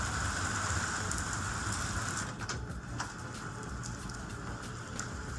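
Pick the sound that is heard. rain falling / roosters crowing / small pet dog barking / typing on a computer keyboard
rain falling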